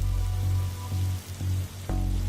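Rain in The Darkside Detective, a continuous soft patter and hiss of falling rain beneath a low droning hum, with a few faint clicks and thuds breaking through.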